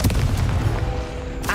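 A Confringo fire spell blast from the Hogwarts Legacy video game booms out loud and close, a dense rumbling burst that fills the whole moment with no voices.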